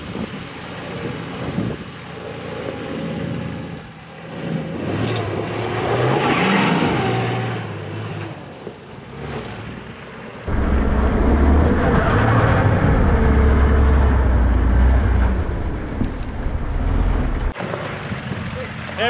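An off-road vehicle rumbles over rough ground and through a big hole, engine low and steady then surging into a heavier, louder drone, with wind buffeting the microphone and people talking.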